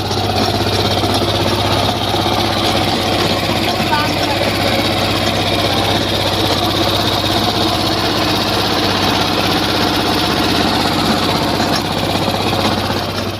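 A tractor pulling a cultivator through a chili field runs steadily and loudly close by, its engine a constant drone with a rattling, chattering edge from the tines working the soil, sustained without a break throughout.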